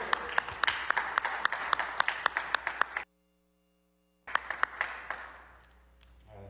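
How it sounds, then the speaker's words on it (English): An audience at a news conference held by the family of Tyre Nichols applauds Rodney Wade, a dense round of clapping with sharp individual claps, briefly cut off and then resuming before fading out. "Let's give a big round of applause for the man standing strong for his family, Mr. Rodney Wade"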